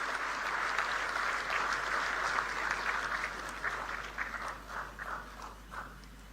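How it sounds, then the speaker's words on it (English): Applause from the audience at the inauguration of a quantum reference facility in Amaravati, a steady dense clapping that gradually thins and fades over several seconds, with no voices over it. "A huge round of applause."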